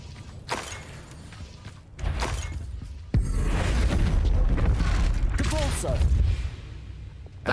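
Game enemy in Hogwarts Legacy slamming into a wall and smashing through it, a sudden heavy crash with crumbling debris that rumbles on for several seconds amid dense spell effects, with a voice talking faintly underneath.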